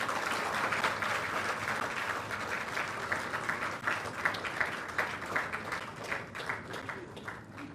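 An audience at a state-level award ceremony honouring UPSC and IIT-JEE qualifiers gives a long round of applause, steady at first and then thinning into more distinct, separated claps toward the end.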